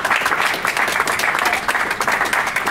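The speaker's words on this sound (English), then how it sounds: "give him a big round of applause" Steady applause from a meetup crowd in Graz thanking hosts from Block 42, dense and continuous clapping filling the room at close range for a few seconds.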